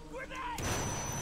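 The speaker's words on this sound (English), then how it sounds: "Grenade!" A grenade goes off in the Call of Duty: World at War campaign. A brief burst of game speech is cut off by a sudden loud, full-range blast, and a dense roar and crackle follow for the rest of the moment.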